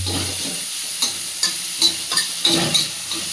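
Onions frying in a pan on the stove for chapathi burji, a steady close sizzle with a few sharp scraping stirs and spatula clicks recurring through it.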